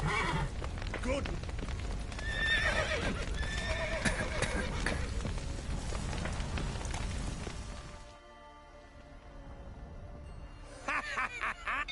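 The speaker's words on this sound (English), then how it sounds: "The horses!" Horses whinny and neigh amid clattering hooves in The Witcher 3, loud and busy under a mix of game sounds for about eight seconds, then a quieter stretch before brief sharp noises return.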